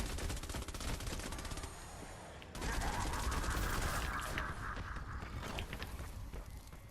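The Candy Corn LMG machine gun in Fortnite Save the World fires in long, rapid bursts of dense game gunfire, with a short pause and mechanical clicks partway through, then another sustained volley.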